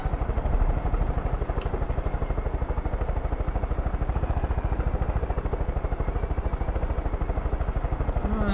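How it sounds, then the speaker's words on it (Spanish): A helicopter in Far Cry 5 drones steadily with a fast, even rotor chop, loud and close throughout and never letting up. "Ya que tenemos el helicóptero este"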